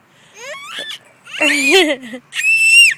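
A child shrieks and screams on a playground in loud, rising bursts, with short pauses between them.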